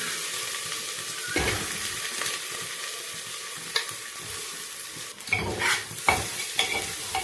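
Rice fries in mustard oil inside a pressure cooker with a steady, close hiss, broken by several sharp scraping stirs. No voices.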